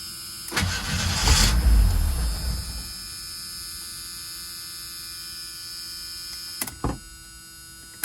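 A car engine cranks and catches briefly, then settles into a steady low hum with a couple of sharp clicks near the end.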